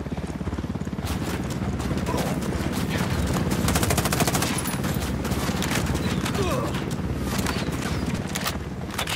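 Rapid automatic gunfire in a Ghost Recon Wildlands firefight, dense sustained bursts filling the whole stretch at high loudness, with voices talking over the shooting.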